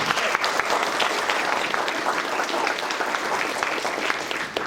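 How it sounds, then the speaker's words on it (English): Steady applause from a crowd at a mayor's State of the City address, dense clapping holding at an even level throughout with a slight dip at the very end. "Let's give Maggie a round of applause."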